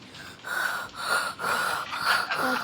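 A creature in Poppy Playtime Chapter 3 breathes heavily in a slow, regular cycle of loud rasping gasps and snorts, close up and alone.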